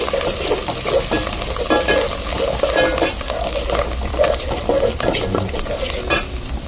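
Mint and coriander sautéing in a pan for mutton curry, a steady loud sizzle with continual scraping and stirring strokes throughout.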